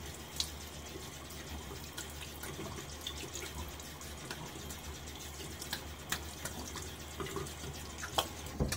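Tap water runs steadily into a sink to rinse a razor during a wet shave with a Blackland Dart razor, a faint continuous splashing trickle heard close by with no talking.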